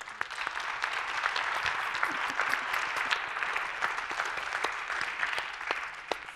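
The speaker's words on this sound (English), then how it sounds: "let's give a huge clap for everyone here on stage" Audience at a keynote session of a New York conference applauding steadily, a dense wash of many hands clapping with sharp individual claps standing out, sustained throughout at a moderate distance with no talk.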